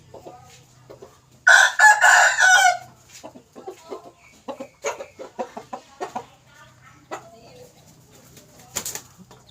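A rooster crows loudly once, followed by a series of short clucks and bird calls in a quiet setting.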